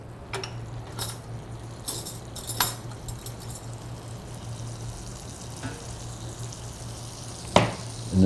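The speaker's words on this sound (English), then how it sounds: "Let that sizzle just a little bit." Lobster casserole mixture sizzles in a wok with a quiet, steady frying hiss, broken by occasional sharp clinks and scrapes of a utensil against the pan.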